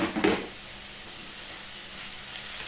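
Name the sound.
red peppers frying in olive oil with garlic and leek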